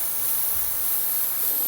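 An airbrush sprays Payne's Grey paint in a light pass, giving a steady, close, even hiss that runs unbroken throughout with no voices.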